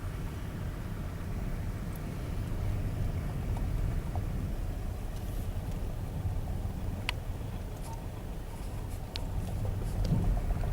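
Riding aboard a ferry, a loud steady low rumble of engine and water noise that fills the whole span, with a few faint clicks on top and no talking.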